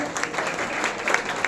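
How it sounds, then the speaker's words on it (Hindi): Audience clapping loudly and steadily for children performing at a Women's Day celebration, a dense continuous patter of many hands with no speech over it. "एक बार जोर से तालियां बच्चों के लिए"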